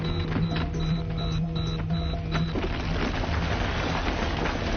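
Small stones rain down onto a roof with a hail-like patter, a dense, steady clatter that follows a mechanical rhythmic tapping at the start and continues on its own.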